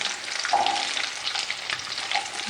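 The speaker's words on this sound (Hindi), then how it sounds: "इसी में शिमला मिर्च डाल दी मैंने। इसको भी थोड़ा सा इसी तरह ना 20-25 सेकंड चलाते हैं।" Capsicum being stir-fried in a pan over a high flame, with a steady, close sizzle and crackle and intermittent scraping as the pieces are turned. No voices are present.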